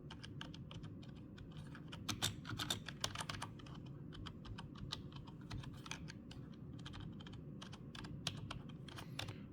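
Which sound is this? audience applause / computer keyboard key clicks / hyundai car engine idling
computer keyboard key clicks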